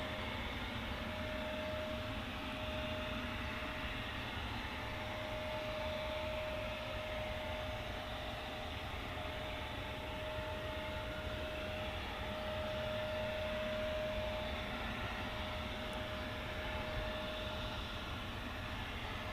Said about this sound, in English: That's a 787 10 series, the largest of the 787 fleet.